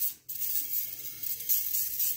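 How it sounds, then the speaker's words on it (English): A spray bottle mists the lid of a soap mold with a steady hiss that runs almost without a break after a brief pause at the start. The spray sounds close and fairly loud, and no one speaks. "I'll spray the lid as well"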